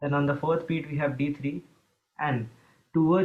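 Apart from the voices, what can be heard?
No distinct noise like a dog, phone or traffic.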